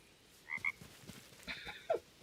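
A frog croaks in short bursts, a close pair of chirpy calls followed by a few more scattered croaks, clear against a quiet background with no talking.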